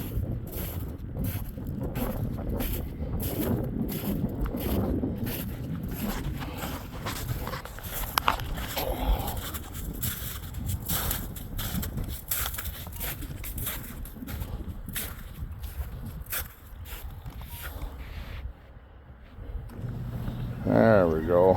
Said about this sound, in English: That wind is terrible.